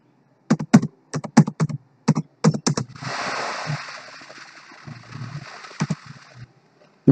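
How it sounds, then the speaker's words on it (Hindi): A computer keyboard is typed on close by: quick bursts of keystrokes, then a stretch of steady hiss, then a few more clicks toward the end. "फिर दोबारा वही अकाउंट नंबर टाइप करेंगे इसमें।"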